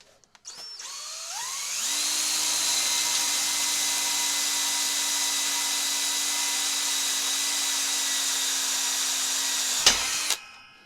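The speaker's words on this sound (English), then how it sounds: "Yeah, I'll drill a hole through here." A power drill boring a hole through a wooden shoe bench: the motor spins up with a rising whine, holds a steady high-pitched drone for about eight seconds, then cuts off with a brief clunk and winds down.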